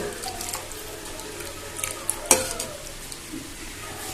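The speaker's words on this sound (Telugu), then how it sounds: "తగినంత చింతపండు పులుసు ఇలా వేసుకొని ఒక్కసారి ఇలా కలుపుకోవాలి ఫ్రెండ్స్." Fish curry base with tamarind juice is stirred in a pot, giving a soft, wet, continuous sizzle with a few light scraping clinks of the spoon.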